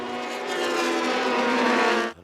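Race cars roar and accelerate hard together at an SCCA race restart, with one loud engine note climbing steadily for about two seconds before cutting off abruptly.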